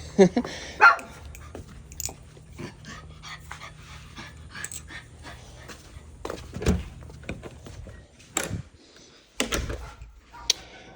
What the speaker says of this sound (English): I hate when my dog barks